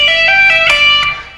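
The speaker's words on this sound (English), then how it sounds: "And then we're going to pull off the same notes," Distorted electric guitar pull-offs in a G pentatonic legato lick, five quick bright notes in a short run, close and loud with no voice over it.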